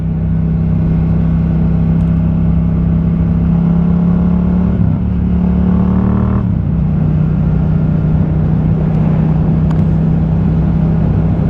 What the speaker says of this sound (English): this Yamaha MT-07, it's an amazing around town commuter bike